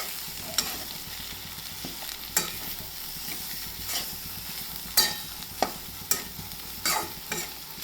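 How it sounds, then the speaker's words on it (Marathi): Potato chutney stirred and mixed in a hot pan, a steady sizzle broken by repeated sharp scrapes of a spatula on the metal at irregular intervals, close and clear with no speech. "आता आपण हे व्यवस्थित हे सर्व मिक्स करून घेऊयात."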